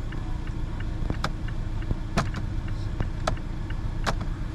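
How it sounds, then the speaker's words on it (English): A 2016 Mazda 3 turn signal ticks inside the parked car at a steady rhythm of sharp clicks, roughly one per second, over a low idling engine hum. "We're gonna turn the signal."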